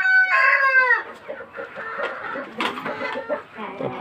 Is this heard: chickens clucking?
yes